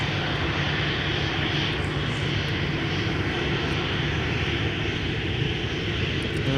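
An American Airlines airliner at a snowy winter airport, a steady, loud engine rumble and roar that holds constant throughout, with no speech over it.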